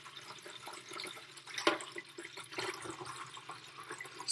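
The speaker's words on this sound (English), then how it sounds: "So I'm going to start by pouring some water" Water poured into a tank during a cardiac output demonstration, heard as a soft, uneven trickle and splashing with a few sharper drips, quiet and close, with no talk.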